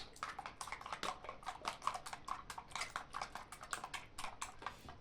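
Quick, rhythmic whisking of an egg, onion and tomato omelette mixture in a bowl, a steady run of close clicking strokes with no talking.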